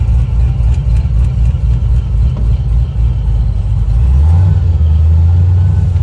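A 1957 Chevrolet 3100 Deluxe restomod with a ProCharged LS2 V8, six-speed manual and air ride suspension, driving with a loud, steady low engine rumble that deepens into a heavier drone near the end.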